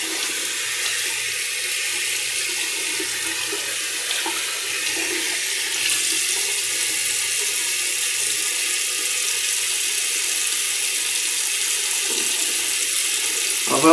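Steady running water from a bathroom tap, rinsing off after a wet shave, flowing continuously and close with slight splashing changes, loud and alone with no talking.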